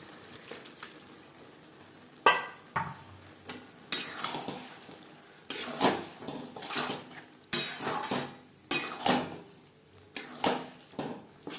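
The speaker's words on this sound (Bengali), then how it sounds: "লো টু মিডিয়াম ফ্লেমে আরও তিন চার মিনিট নাড়াচাড়া করে নেব" Pabda fish curry with green peas is stirred in a pan over a low to medium flame: sharp, repeated scraping and clinking strokes of a utensil against the pan, close and loud, with no talking.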